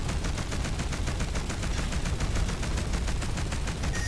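Rapid continuous gunfire and missile fire rattle in a space battle in the video game Between The Stars, a dense, loud, steady barrage throughout with no pauses.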